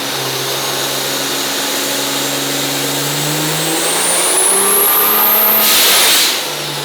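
A 1350 hp single-turbo pulling truck on a dyno, engine roaring loud and close as it climbs steadily in pitch, turbo whine rising on top, then cutting off sharply near the end.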